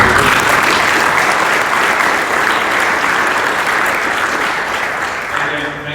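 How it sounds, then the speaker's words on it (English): An audience at an annual meeting applauds an award recipient, a dense, steady wash of clapping that holds loud for about six seconds before tapering slightly at the end. "Well, let's give a round of applause to Richard."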